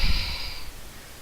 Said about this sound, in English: As far as breathing it, you might breathe it 4 different ways